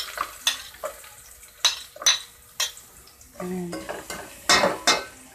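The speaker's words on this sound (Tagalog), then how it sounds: "nagmamantika na po yung ating taba ng manok. Pwede na po ilagay natin yung sibuyas" Onions go into hot rendered chicken fat for a tinolang manok with sayote, giving sharp clatters and scrapes of a utensil against the pan, then a brief hiss of frying partway through, with a voice speaking a few words.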